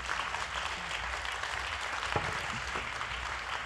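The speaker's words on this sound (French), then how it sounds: "Mesdames, messieurs, je vous demande d'applaudir et de remercier nos invités." An audience applauds guests at a talk on the history of electronic music, a dense, steady clapping that runs without a break and stays even in loudness throughout.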